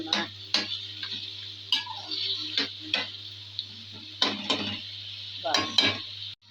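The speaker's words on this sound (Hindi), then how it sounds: "अब चिकन को मसाले में सही तरह भूनना है।" Chicken pieces being fried and stirred in masala in a karahi, with sharp scraping and clanking strokes of a utensil against the pan at irregular intervals over a faint steady sizzle.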